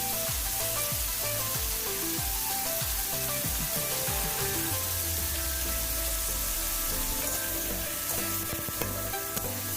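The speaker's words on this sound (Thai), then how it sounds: "จากนั้นนะครับพอสุกดีแล้วนะครับ เราก็ใส่เส้นใหญ่ลงไปครับ" Wide rice noodles are stir-fried with chicken in a hot pan, a loud continuous close-up sizzle broken by repeated scraping strokes of the spatula early on, then settling into steady frying without any voices.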